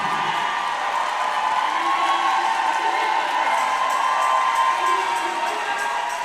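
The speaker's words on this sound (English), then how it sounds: "Scotland's winning the cheering section" Fans of Scotland cheer and shout from the stands at the Roller Derby World Cup 2025 match between Sweden and Scotland. A loud continuous roar of voices with whoops and scattered clapping carries through the whole clip.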